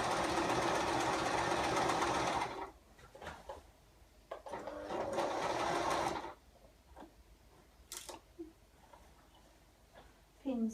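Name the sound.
sewing machine sewing a girl's dress seam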